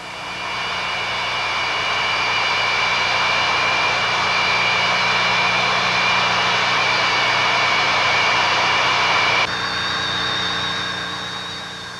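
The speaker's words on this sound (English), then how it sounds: "The AN-225 has the same engines as the AN-124, Lotarev D-18s, but it has 6 of them instead of 4" Antonov AN-225 Mriya with six Lotarev D-18 turbofan jet engines roars loud and close, a dense sustained whine with steady high tones over broadband rumble, dropping slightly near the end, with no speech.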